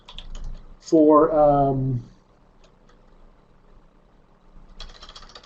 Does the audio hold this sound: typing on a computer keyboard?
yes